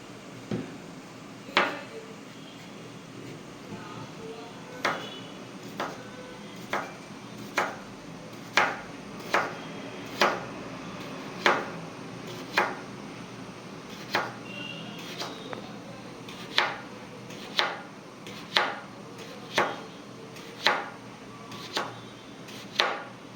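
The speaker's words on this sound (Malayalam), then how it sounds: "അപ്പോൾ ഞാൻ ക്യാരറ്റ് ഒന്ന് അരിഞ്ഞ് ക്ലീൻ ചെയ്ത് ഒന്ന് വേവിച്ചെടുക്കട്ടെ കേട്ടോ" Carrot being chopped with a knife on a board for a Kannur-style cocktail: about twenty sharp, evenly spaced chops, close and clear, over a faint steady background hum with no talking.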